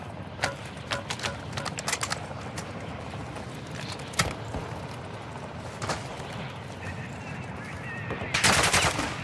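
Video game firefight with scattered gunshots and rapid automatic bursts over a dense background of action noise, ending in a louder, sustained rush of fire.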